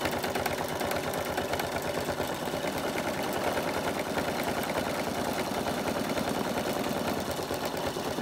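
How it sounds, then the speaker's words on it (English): A sewing machine stitching free-machine embroidery runs at a steady fast chatter, a continuous motorised rattle with rapid even needle pulses, close and unbroken for the whole stretch. "so now I'll stitch along this top part"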